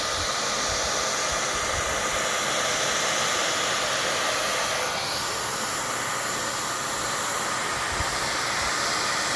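A heat gun blows hot air onto an acoustic foam panel to expand it, a loud, steady, close hiss with a constant airflow roar and no pauses.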